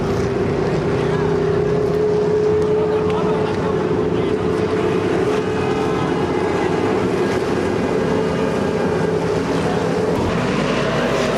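Modified race cars, twenty strong, roar around the Oshkosh Speedzone short track in a steady, loud drone of engines with no break, overlaid by a constant crowd-and-track din.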